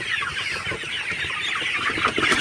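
Sonali chickens on a farm cluck in a dense, continuous chorus of many birds at once, close and fairly loud, with no talking.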